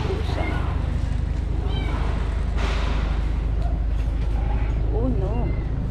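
A cat meows outdoors several times in short, separate cries, moderately close, over a steady background hum.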